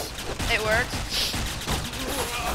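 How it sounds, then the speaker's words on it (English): Bursts of gunfire in a multiplayer shooter video game crackle briefly amid casual chatter between players. "Oh, whoops, that was a gun."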